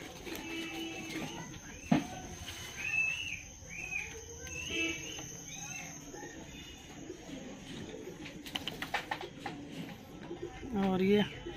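Pigeons coo softly nearby while people talk, with scattered chirps and rustling around them.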